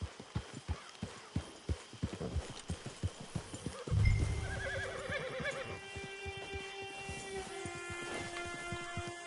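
A horse in the video game Red Dead Online clops along in an even, rhythmic stream of hoofbeats, then breaks into a loud, close whinny that trails off over a softer background.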